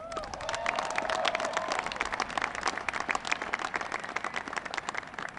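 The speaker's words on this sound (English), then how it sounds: "Give them another round of applause." Crowd applause at a US Air Force Academy commencement ceremony, a dense steady wash of many hands clapping throughout, loud and sustained with no letup.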